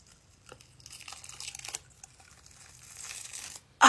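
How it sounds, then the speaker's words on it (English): Special effects makeup being peeled off the skin after a zipper is pulled, giving faint crinkling and tearing rustles in short bursts, close and quiet, ending in a sudden louder rip. "If I just pull the zipper, will it rip off?"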